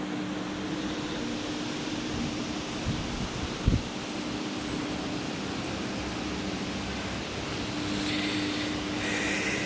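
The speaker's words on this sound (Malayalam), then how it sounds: "ഫാനൊക്കെ ഉണ്ട്, നല്ല കാറ്റ്." Steady airy whoosh of an electric fan blowing air, moving continuously at moderate level through the clip, with a brief knock near the middle and no talk.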